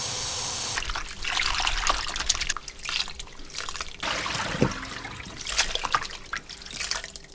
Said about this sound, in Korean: 물에 3번 정도 깨끗이 씻어주고